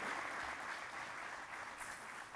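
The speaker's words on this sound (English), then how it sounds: "to our audience, round of applause," A faint, steady round of applause from a seated audience at an Axios stage event on defense, sustained clapping heard from a distance with no voices over it.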